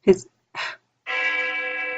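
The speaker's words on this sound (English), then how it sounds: "That sounded like Hell's Bells from AC/DC." A deep bell chime used as a doorbell, resembling the tolling bell of AC/DC's Hell's Bells, rings out once and sustains, following two short bursts of voice.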